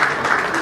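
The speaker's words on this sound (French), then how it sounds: "On applaudit pour Monsieur Alain." Audience applause at an awards ceremony, a brief dense burst of clapping from many hands, loud and continuous.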